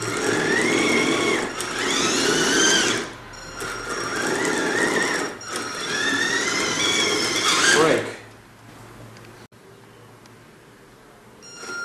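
A Hooben iTank wifi FPV RC tank's electric motors whine as it drives under throttle, two long rising-and-falling bursts of high pitched gear and motor squeal, close and loud, then a quieter low hum.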